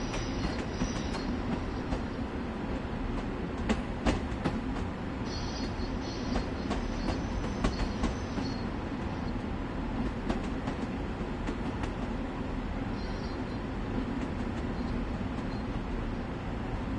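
An XPT passenger train in Train Sim World 2020 runs along the track with a continuous rumbling roar, occasional clicks of wheels over rail joints and faint high whines, steady throughout with no talk.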